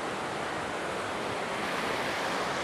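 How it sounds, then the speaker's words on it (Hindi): Dugdh Dhara waterfall on the Narmada river roars in a steady, loud, full-bodied rush of falling water that fills the whole stretch without a break. "यहाँ पहुँच चुके हैं हम लोग दुग्ध धारा वाटरफॉल, जो कि नर्मदा नदी का दूसरा वाटरफॉल है"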